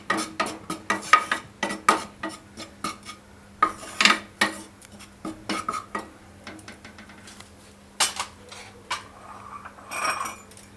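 Maida roasting dry in a pan for an eggless cake, a spoon scraping and clinking against the metal in quick irregular strokes up close, with a faint hum behind and no voices.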